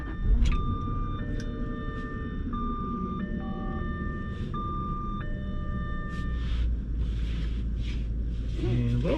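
A 2000 Jaguar S-Type with 64k miles drives along with a steady low engine and road rumble from inside the cabin, while dashboard chimes sound and people talk.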